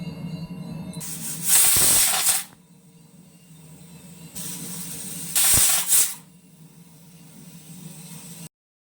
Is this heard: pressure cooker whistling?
yes